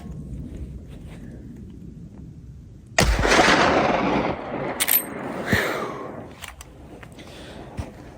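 A Henry lever-action rifle in 45-70 Government fires one heavy 405-grain round outdoors, a single loud boom with a rolling, echoing tail, followed by faint mechanical clicks.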